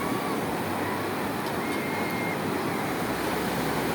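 Steady roar of sea waves washing in continuously, broad and loud, with no distinct breaks between surges.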